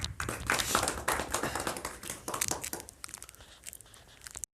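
Applause rises from an audience at a poetry gathering, a dense burst of clapping that thins into scattered claps and dies away after a few seconds, with no talk over it.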